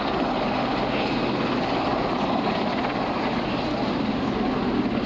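Westland-built WS-61 Sea King helicopter, a licence-built Sikorsky S-61, flying at Southport Air Show: a steady, dense rotor and turbine roar held at constant loudness throughout, no voices.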